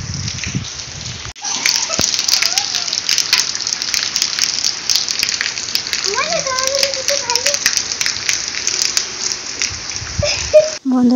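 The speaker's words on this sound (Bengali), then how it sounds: "সারাদিন কতটা পরিমাণে বৃষ্টি হচ্ছে, বৃষ্টির আওয়াজগুলো তোমাদেরকে শোনাচ্ছি" Heavy rain pours steadily on a rural Bengali homestead during a sudden storm, a dense continuous hiss with sharp drips and clatter on surfaces, while people talk and call out in the background.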